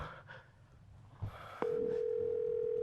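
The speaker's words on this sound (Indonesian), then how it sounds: "Coba kamu telepon Andin deh" A telephone tone sounds while calling someone, a steady continuous electronic tone that holds for over a second after a quiet, muffled background.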